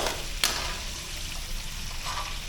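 Pork lightly frying in a pan for kaldereta, a steady soft sizzle running throughout with a couple of brief clinks or stirs, close and alone without talk.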